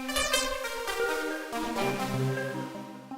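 A pluck patch on the Phase Plant software synthesizer plays a quick run of short, bright plucked notes over a sustained harmonic bed, close and clear with no voices.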